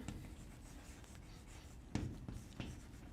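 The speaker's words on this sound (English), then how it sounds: "So let me write that." Handwriting during a physics lecture on particle energy and momentum, a soft rubbing scratch with a few sharper strokes near the end, close and quiet with no talk.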